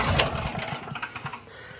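An old small engine, sitting a couple of hours with the gas turned on, cranks briefly on its electric starter in a rapid chugging burst that fades without catching, close and fairly loud.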